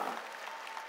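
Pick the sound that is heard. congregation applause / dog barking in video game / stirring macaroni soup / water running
congregation applause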